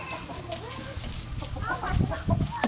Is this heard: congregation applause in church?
no